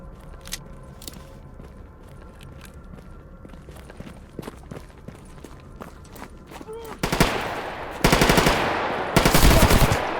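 AI enemies in Stalker GAMMA open up with rapid automatic gunfire, scattered single shots at first and then long, loud close bursts, with footsteps and light rustling in between.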